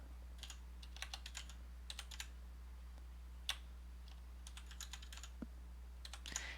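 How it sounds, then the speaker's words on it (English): Someone types Chinese characters on a computer keyboard, a quiet, irregular run of light key clicks in small bursts over a low steady hum, with no talking. "I'm not very skilled in typing Chinese"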